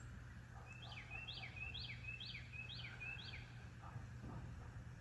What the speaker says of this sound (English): Just birds and dogs.